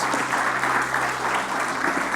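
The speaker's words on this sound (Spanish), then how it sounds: "Dale un fuerte aplauso a nuestro Rey de Reyes en esta mañana." A church congregation at a Sunday morning service breaks into loud applause in worship, a thick, continuous patter of clapping swelling gently in waves without pause.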